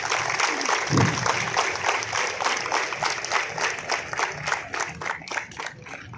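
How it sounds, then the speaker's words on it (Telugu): A crowd claps steadily at a self-defence karate training event for female students, with rhythmic applause continuing under some voices. "చప్పట్లు కొట్టచ్చు."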